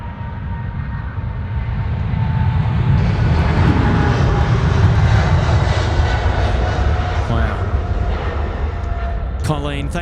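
A Cathay Pacific airliner rolls on takeoff at Sydney Airport, its engine roar swelling loud and broad and holding steady, with a sharp rattling burst near the end.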